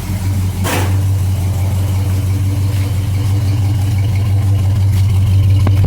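1968 Ford Mustang running with headers, a loud, steady low rumble close by, with a brief sharp burst near the start.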